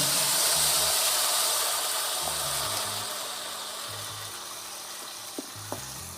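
Onion paste frying in oil in a pan for a hill goat mutton curry, a steady close sizzle and hiss running throughout with a few faint clinks near the end, and no talk.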